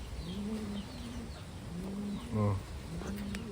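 Taiwan pigeons kept for sale coo softly in repeated low calls close by, with faint chirps and background ambience.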